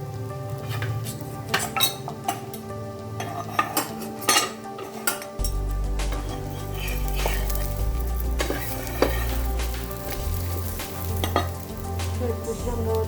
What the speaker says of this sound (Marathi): पॅन ठेवला त्याच्यावर दोन्ही साईडने तूप लावून आपण हे भाजून घ्यायचं आहे